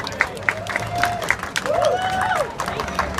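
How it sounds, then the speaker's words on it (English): Applause from an audience at a live event, fairly loud and dense, with a voice speaking and crowd chatter over the clapping. "Give them all a round of applause."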